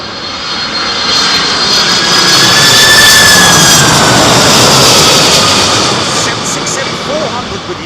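United Boeing 767 lands at Heathrow in windy weather, its jet engines roaring loudly as the sound swells to a peak and then slowly fades, with a broad rushing whine throughout.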